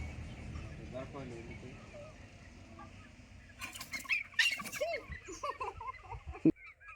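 Native country chickens cluck and squawk nearby, with a burst of wing flapping midway, over a steady background murmur.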